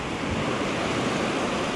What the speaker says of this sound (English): But we got pretty clear water, calm surf